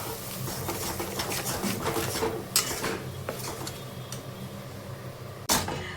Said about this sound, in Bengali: এইভাবে এখন আমি মশলাটাকে ভালো মতন কষিয়ে নেব।